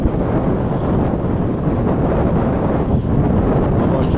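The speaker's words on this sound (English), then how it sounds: "Wind coming over the edge here, so we're putting the shells on." Strong wind blowing over a mountain edge during a winter climb of Mount Whitney, a continuous heavy roar buffeting the microphone with no letup and no voices.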